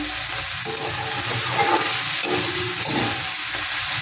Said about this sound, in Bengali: এবার বন্ধুরা এটাকে আমি ভালো করে ভেজে নিলে